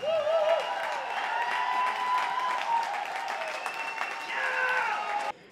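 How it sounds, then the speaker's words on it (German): Audience applause at a German company's annual review event honouring a lifetime's work, steady clapping mixed with tonal sounds that may be music, ending abruptly. "Ein ganz großer Applaus für das Lebenswerk von Peter Götzmann"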